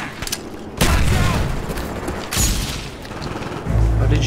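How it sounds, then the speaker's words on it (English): A frag grenade explodes in the Call of Duty Black Ops video game: several loud booming blasts land about a second and a half apart amid rattling gunfire. "Throw it frag!"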